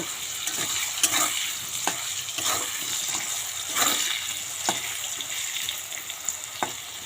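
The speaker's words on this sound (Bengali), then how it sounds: "এখন আলুটা লাল লাল করে ভেজে নেব" Potato pieces frying in hot oil after salt and turmeric, a continuous moderate sizzle with occasional sharper crackles and spatter pops, no voices.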